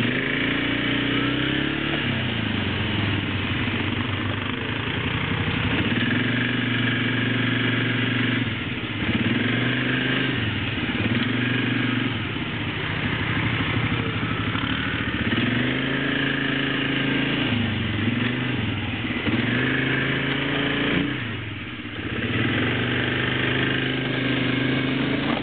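A four-wheeler ATV engine drones steadily while being ridden, loud and close throughout, with repeated dips and swells in pitch as the throttle eases and opens.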